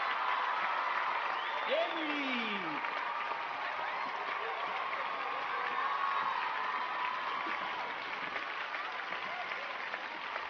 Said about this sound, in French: Applaudissez, je vous prie, Emily Smith Denji.